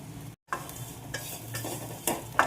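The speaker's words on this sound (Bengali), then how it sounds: "অল্প তেলেই ভাজবো, এই যেটা তেলটা দেখছো এই তেলেই ভাজবো।" Quiet frying sizzle in a pan, with a few soft stirring scrapes and clinks scattered across the clip.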